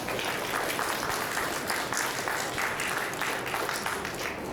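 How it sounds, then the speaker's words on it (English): Guests applaud the bridal party and groomsmen at a wedding ceremony, a steady, dense wash of clapping from a crowd that holds evenly throughout without pause. "A round of applause for these fine folk."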